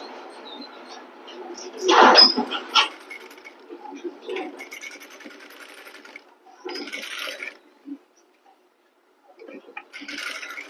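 A sewing machine stitches a blouse seam along an attached strip, running in short intermittent bursts with pauses between, close and moderately loud.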